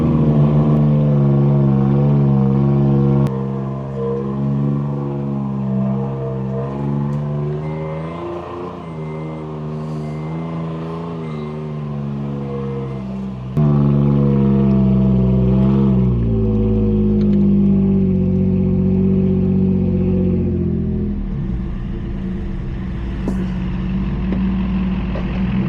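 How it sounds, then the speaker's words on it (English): A vehicle engine towing a Chevy to a boat ramp, a loud steady drone with shifting pitch and revs rising and falling, continuous and close throughout. "All right, guys, we got this Chevy in tow"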